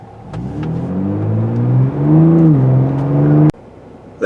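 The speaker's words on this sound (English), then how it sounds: "I put the exhaust sound in maximum, called the Baja mode." A 2022 Ford Bronco Raptor's exhaust in Baja off-road mode revs loudly, the engine note climbing and swelling for about three seconds before cutting off abruptly into a lower idle, with no talking over it.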